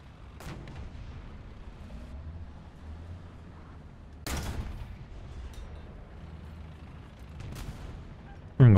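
Tank cannon fire in War Thunder, three heavy booming shots spaced several seconds apart over a low engine rumble, the middle one loudest, with a sharp close blast at the very end.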